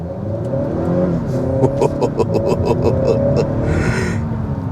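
A 2022 Honda Accord 2.0T Touring in sport mode accelerates with a steady, loud engine rumble and rising whir, a few ticking knocks over the top, and a brief breathy burst near the end.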